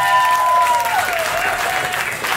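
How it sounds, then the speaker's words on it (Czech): Audience applause at an Advent jazz concert, steady dense clapping from a crowd throughout, with a sustained instrumental tone sliding downward behind it. "Ďakujeme, že ste aj zatleskali"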